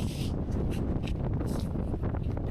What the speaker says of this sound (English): I don't even know if you can hear me because it's so windy